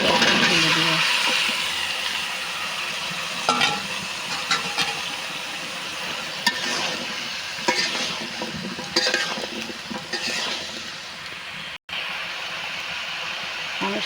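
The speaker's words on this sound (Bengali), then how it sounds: "আমি সুন্দরভাবে একটু নাড়াচাড়া করে নিলাম।" A pumpkin curry with spices is stirred in a pan, with a continuous hiss and sizzle and faint spoon scrapes scattered through it, and a voice talking over parts of it.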